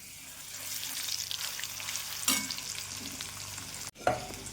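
Asafoetida, curry leaves and garlic-chili paste hit hot oil in a pan for dahi chana dal, giving a steady close crackling sizzle with stirring scrapes, one sharp flare at midpoint and a brief cutoff near the end.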